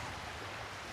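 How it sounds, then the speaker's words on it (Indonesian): Ocean surf washes onto a beach in a steady, broad rushing roar, moderately faint and uninterrupted through the short stretch, with no talk over it. "aku bisa mendengar suara debur ombak"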